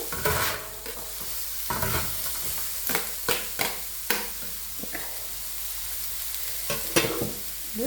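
Onions lightly sautéing in a pan for mutton kothu hiss softly while a spoon scrapes and clatters in irregular bursts, close and prominent, with no talking.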